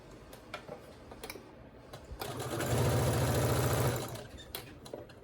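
Close ticking hum of a sewing machine running a straight stitch down a personalized dog bone, building to one steady loud run in the middle amid faint clicks.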